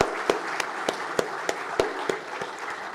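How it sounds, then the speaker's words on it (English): A conference audience at an inaugural panel session breaks into applause, a dense wash of clapping with a few loud, regularly spaced claps standing out close by. "I would request you to join me in a big round of applause for our distinguished luminaries"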